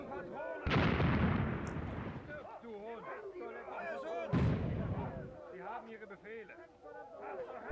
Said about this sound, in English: This is the company mortars.